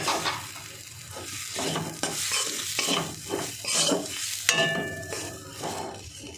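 Spices sizzle in a hot frying pan while a utensil scrapes and stirs them in repeated strokes, a close, steady frying hiss under rhythmic scraping, with no speech.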